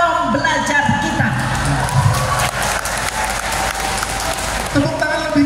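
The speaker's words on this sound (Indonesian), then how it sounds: "Tepuk tangan lebih keras lagi Bapak Ibu." A talk show audience at a TPN 2024 event in Jakarta breaks into loud, continuous applause with cheering and whoops, the clapping swelling and holding steady while voices shout over it.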